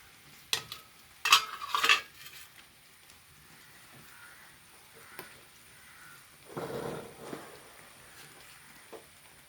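Jackfruit stirred into a pan of simmering jaggery and grated coconut, a few short scraping bursts of a spoon against the pan with quiet gaps and a faint sizzle between them.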